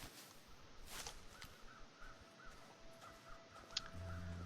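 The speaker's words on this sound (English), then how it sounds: "Oh, I hear crows." Crows caw in a video game world, a run of evenly spaced, moderately distant calls over a quiet ambient bed, with a sharp thud and a low drone entering near the end.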